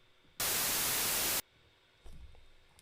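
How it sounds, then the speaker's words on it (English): White noise synthesized with JavaScript, a loud, steady hiss that starts abruptly, holds for about a second and cuts off sharply, followed by a quieter low rumble. "Can you hear the white noise?"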